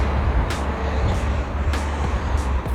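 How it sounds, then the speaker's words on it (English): Busy road traffic passes through the small town of Ngongotaha near Rotorua, New Zealand, a continuous close rumble of engines and tyres with brief swells as vehicles go by. "Plenty of traffic."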